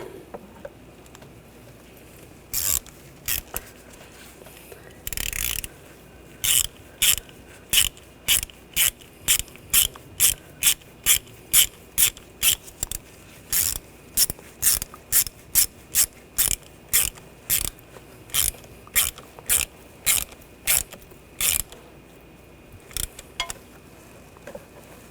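A ratchet clicks in rapid, irregular bursts while tightening a hose clamp on a throttle body tube of a 2013-2022 Buick Encore engine, close and crisp, with short pauses between runs of clicks.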